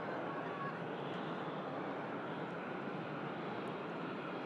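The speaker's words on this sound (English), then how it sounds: "From the 319 there. Climbs out of Manchester." Airbus A319 climbing out of Manchester after takeoff, a steady broadband engine roar heard at a distance, holding constant throughout with no other distinct sounds over it.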